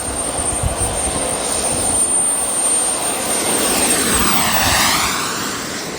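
A Matrix 2.8 RC airplane flies past with a loud, continuous engine whine. The pitch sweeps down and back up as it passes, and no voices can be heard.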